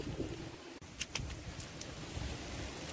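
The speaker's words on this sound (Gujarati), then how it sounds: "તો પવન ફૂલ છે" Strong wind on a farm in rural Gujarat buffets the microphone in a low, rumbling roar, with a few brief scrapes and knocks.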